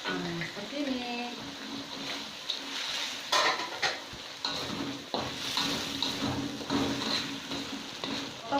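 Leunca is stirred in a pan with basil leaves, scallion and petai for a Sundanese dish, with soft scraping clinks of a utensil against the pan and a light sizzle, fairly quiet.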